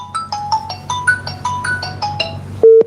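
A phone rings with a repeating melodic ringtone for an incoming call, about ten quick chiming notes in a steady rhythm. It is close and clear and ends with a single sustained tone.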